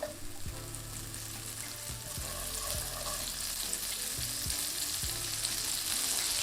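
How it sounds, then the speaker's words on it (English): Sliced yellow onions fry in butter with a touch of oil in a pan over low-medium heat, giving a steady close sizzle broken by repeated low scraping knocks as they are stirred. "And with your onions, give that a really good mix and cook those onions."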